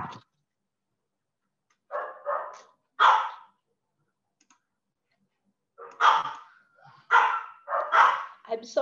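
Dogs barking in short clustered bursts, several yips and woofs, some with double barks, in a quiet room between pauses, fairly close and clear.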